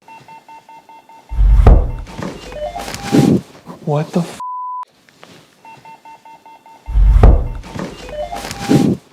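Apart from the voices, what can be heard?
dull thud heard overhead in a house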